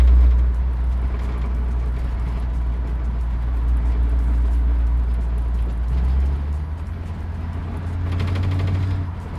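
A 1968 Ford Torino fitted with an AOD automatic transmission cruises while shifting into overdrive, a loud, steady low engine drone and road rumble inside the car that dips slightly as the gear changes.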